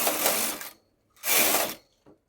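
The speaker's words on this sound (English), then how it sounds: "I'm going to knit 2 rows right now." A domestic knitting machine carriage swept across the needle bed twice for two rows of a tuck lace pattern, each pass a loud close rasping whoosh with a short pause between, plus a faint click at the end.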